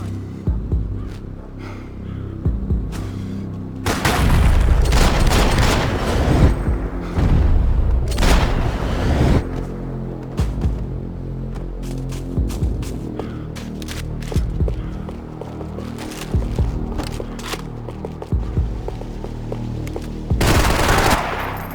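Heavy gunfire and explosions in the game Max Payne 3, with rolling booms and sustained rapid bursts of shots, loud and close, rising and falling in intensity.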